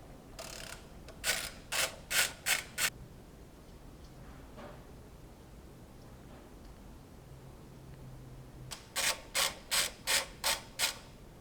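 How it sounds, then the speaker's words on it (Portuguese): A ratchet wrench loosens the ignition coil nuts on a 1994 Fiat Uno Mille engine in two bursts of quick, evenly spaced clicking strokes, separated by a quieter stretch of faint handling noise. "Então nós vamos soltar esses 3 aqui e a bobina vai levantar."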